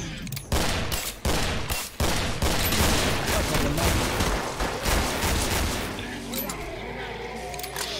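Rapid, dense automatic gunfire and explosions fill the Killing Floor co-op shooter match, loud and nearly continuous before thinning toward the end, with players talking over it.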